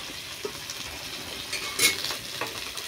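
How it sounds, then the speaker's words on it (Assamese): Fish fries in hot oil in a pan, a moderate close sizzle broken by scattered stirring scrapes and a few sharp spattering pops. "তেল গৰম হৈ গৈছে, মাছ ভাজিবলৈ মাছ দি দিম।"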